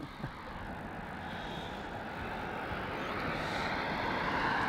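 A Malaysia Airlines airliner taxis out at Melbourne Airport for a runway 16 departure, a steady distant jet engine hum that slowly swells.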